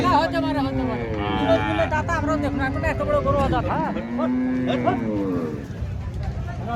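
Cattle lowing loudly and repeatedly at a busy livestock market in Rajshahi, deep drawn-out moos overlapping one another near at hand, with crowd chatter and talk in the background.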